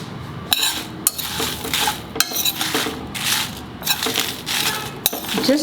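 Metal utensil clinks and scrapes against a pan as masala spices are dry roasted and stirred over a medium gas flame for chicken curry, with irregular close knocks and rattles throughout.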